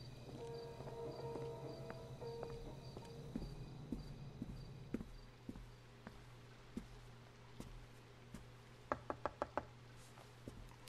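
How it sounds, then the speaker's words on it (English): A secret knock on a door in L.A. Noire, a quick cluster of sharp raps near the end after a stretch of low ambient hum and scattered faint taps, fairly quiet overall. "That's the secret knock."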